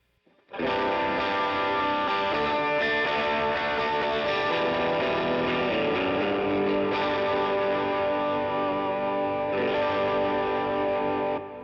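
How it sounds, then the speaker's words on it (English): Electric guitar run through a Morning Glory overdrive pedal on a budget pedalboard, playing sustained, thick overdriven chords and notes continuously for about eleven seconds, loud and alone with no talk. "Let's go into the second one, which is the Morning Glory."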